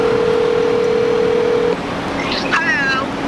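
A telephone being dialed to place a call: a steady dial tone gives way after a short pause to a brief warbling ring signal, loud and close over a faint background hiss, with no speech.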